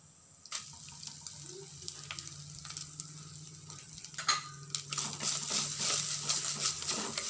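Grated coconut sizzles in a pan while a utensil scrapes and stirs, the frying hiss growing louder and fuller toward the end.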